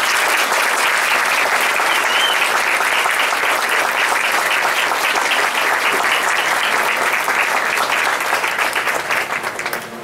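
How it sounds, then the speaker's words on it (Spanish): Sustained applause from a large crowd at a church tribute to Our Mother of Perpetual Help, dense and steady for the whole stretch, tapering slightly at the end. "La saludamos con un aplauso cariñoso."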